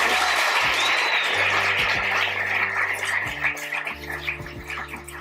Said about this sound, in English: And then let's applaud these two wonderful actors.